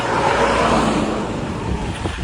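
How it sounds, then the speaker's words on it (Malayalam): An army vehicle speeds past on a road in Myanmar, a loud, close, steady roar of engine and tyres with wind rush and no voices. "ആർമി വണ്ടിയാണല്ലോ ഇപ്പൊ പോയത്"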